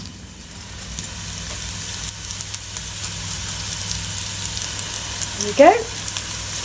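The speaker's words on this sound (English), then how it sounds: "I've got 2 cloves of garlic, nicely minced, and that's going to go straight into my pan with the onions" Two cloves of minced garlic drop into a pan of onions and fry with a steady soft sizzle, accompanied by a brief stirring scrape and a few quiet words.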